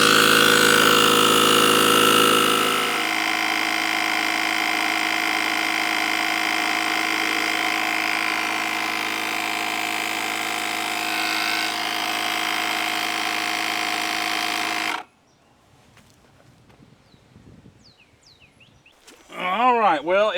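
A BUTURE portable jump starter and air compressor pumps up to 60 psi with a steady, loud mechanical drone for about fifteen seconds, then cuts off, followed by quiet handling noises and a brief voice at the end.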